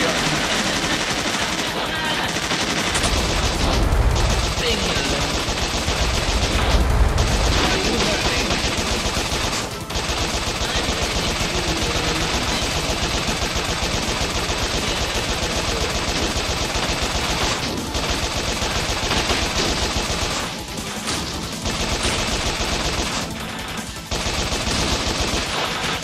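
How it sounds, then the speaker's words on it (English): Relentless machine gun fire in the video game Bot Vice during a final boss stage, a loud continuous rattle with brief breaks and heavy low booms near the start, lasting throughout. "Machine gun."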